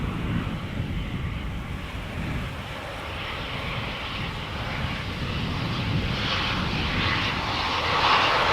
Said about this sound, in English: There's the Chinese triple going to center. China Southern Cargo arriving from Guangzhou.